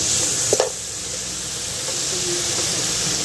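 Spoon stirring a dry spice mix of turmeric, black pepper and cumin into tomatoes in a hot pan, with a couple of sharp scrapes early on over a steady close sizzle that continues alone.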